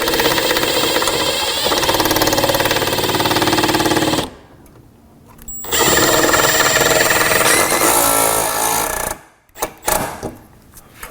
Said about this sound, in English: we used a 1/8 drill bit to go ahead and drill some pilot holes